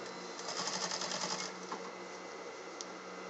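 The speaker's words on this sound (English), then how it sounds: "now we're going to stitch the lining down." A sewing machine stitches down a jacket lining in a continuous fast mechanical whir with a steady rhythmic clatter, close and clear, easing slightly after the first second and a half, with no talking.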